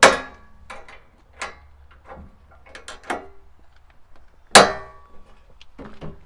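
A Ford Bronco tailgate table is folded and stowed. Several sharp metallic clangs and clicks, one especially loud knock near the end, and lighter rattles between them, with no one talking.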